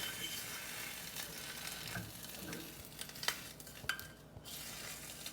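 An egg fries in a pan, giving a quiet, even sizzle with occasional utensil clinks and scraping against the cookware as it is moved.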